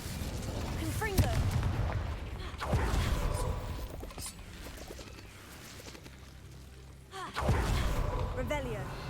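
Confringo fire-blast spells in Hogwarts Legacy go off as several booming explosions with crackling debris. A voice calls out spell names between the blasts.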